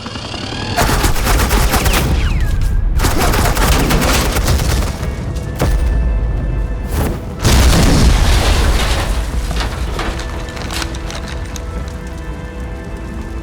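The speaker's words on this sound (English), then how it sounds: "This is Agent Quinn, suppressing fire." Dense, continuous automatic gunfire and booming explosions fill the scene during suppressing fire in the video game Batman: The Enemy Within, loud and sustained with brief dips and a heavier burst midway.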